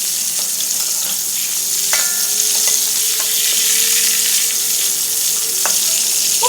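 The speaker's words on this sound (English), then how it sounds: "Prawns has to be fully cooked, not half cooked ya." Prawns coated in custard flour and cornflour fry in hot oil, producing a loud, even, dense sizzle with a few light clinks and stirring sounds, close and continuous without speech.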